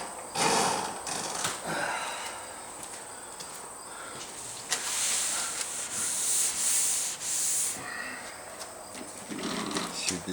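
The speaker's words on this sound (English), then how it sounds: "that's wet sanding base." Wet sanding of a car's metallic base coat by hand, with close, rhythmic rubbing strokes that rise and fall in bursts and brief pauses between passes.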